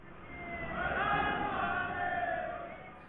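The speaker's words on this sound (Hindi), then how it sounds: "पुलिस के सामने कथित गोरक्षक नारेबाजी करते हैं" A crowd of self-described cow protection vigilantes shouts slogans in front of police, a dense, muffled roar of many voices swelling and holding at moderate loudness.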